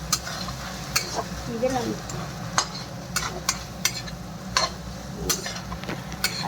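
Chowmein noodle ingredients frying in a pan, an even sizzle under repeated sharp spatula scrapes and clinks at a regular rhythm, close by, with a brief spoken word.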